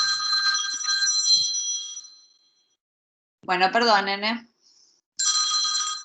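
A telephone rings nearby during a class, giving repeated bright electronic trills with gaps between them. Someone speaks briefly between the rings.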